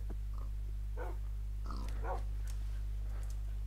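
Dogs in the Minecraft video game give a few short barks and yips, fairly faint over a steady low game hum, with brief bursts spread across the moment.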